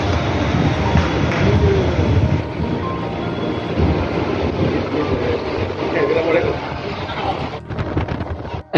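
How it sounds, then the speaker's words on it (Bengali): An empty passenger train on a day trip in Jharkhand rumbles along its rails with a steady, loud low roar and rattle, wind buffeting the microphone, and a brief drop near the end. "খুব ভালো একটা ট্রেন জার্নি, যেইটা আপনারা এখন দেখছেন"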